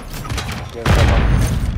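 Gunfire bursts out in a Call of Duty search-and-destroy match, a muffled thump first, then a heavy, loud volley of shots booming through walls at close range.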